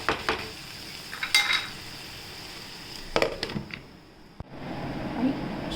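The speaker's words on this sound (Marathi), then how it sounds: "आता आपण प्लेटमध्ये सर्व करूया" Dill leaf bhaji is served onto a plate with scattered clinks and scrapes of a spoon against metal, a few sharp knocks, and light handling sounds in between.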